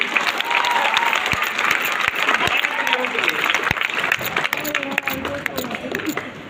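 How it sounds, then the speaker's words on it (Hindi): Crowd applause at a live comedy show, continuous clapping from many people at fairly high volume with a few sharp louder claps, voices mixed in underneath. "तालियां कमजोर है आपकी।"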